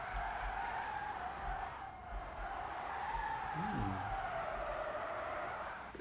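An Audi e-tron GT drifting in Car Simulator 2 gives a sustained tire skid squeal that wavers in pitch over a low rumble, fairly faint and continuous, with no talking.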